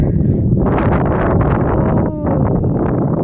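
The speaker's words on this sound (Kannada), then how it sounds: "ಗಾಳಿ" Strong wind buffets the microphone with a constant roar, loud and close throughout, at Manjarabad Fort.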